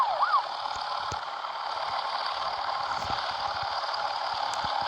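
A police car siren wails steadily at a distance, a sustained high tone held over a low rumble of background noise, with no talking.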